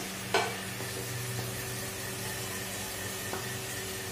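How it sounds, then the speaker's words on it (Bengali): Chopped onions and green chilies for Maggi noodles fry in a pan with a steady, even sizzle throughout, broken by a couple of soft utensil knocks. "পেঁয়াজটা ভাজা ভাজা হয়ে গেছে, পেঁয়াজ আর দুটো লঙ্কা ছোট ছোট দিয়েছি"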